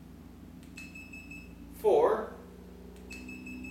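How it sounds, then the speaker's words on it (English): The controller of a Fusion motorcycle LED light system gives short, faint electronic beeps at button presses, with a brief spoken word between them over a quiet background hum. "We can tell by the beeps if you listen here as I press the button."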